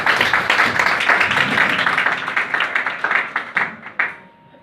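A church congregation breaks into applause during a French sermon, a dense, steady patter of many hands that thins into a few scattered claps and fades out.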